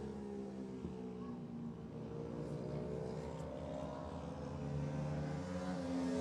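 Mini bike racing engines from the Senior Open class at the Irish Mini Bike Championship drone steadily at moderate distance, with a continuous buzzing hum that rises slightly toward the end.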